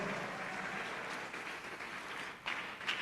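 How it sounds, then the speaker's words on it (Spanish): A church congregation applauds during a service, a steady, fairly faint wash of many hands clapping with a couple of slightly louder individual claps near the end. "Denle un fuerte aplauso al Señor"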